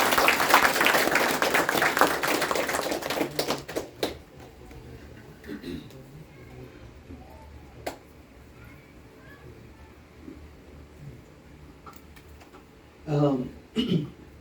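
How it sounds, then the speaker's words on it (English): Audience applause for visiting students, a loud burst of dense clapping that thins into scattered claps and fades within about four seconds, then quiet room sounds with brief murmured talk. "So we will give them a round of applause for coming."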